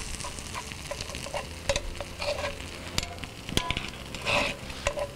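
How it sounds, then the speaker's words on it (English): Pork tenderloin with roasted red potatoes sizzles in an outdoor skillet, a steady frying crackle with occasional stirring scrapes and clinks, close by and moderately loud, no voices. "That is one delicious sizzling pan of goodness."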